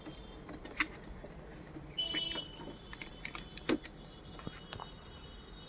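Scattered key clicks from a USB computer keyboard, irregular taps with a few louder strikes and a brief burst of rustling, close and quiet in a still room without talk.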